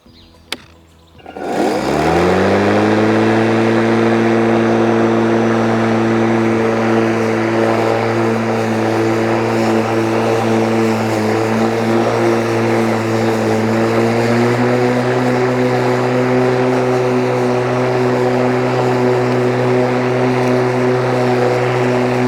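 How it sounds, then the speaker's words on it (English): Murray 44cm cordless lawn mower (IQ18WM44) cutting grass, spinning up quickly into a loud, steady electric motor drone with a constant whirring hum that holds throughout. "let's go, let's see how well this mower does."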